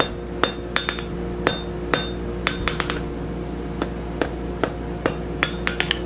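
Hammer blows drawing down hot metal for a small gothic door knocker, about twenty sharp ringing strikes in an uneven rhythm with a steady forge hum underneath, close by, no talking.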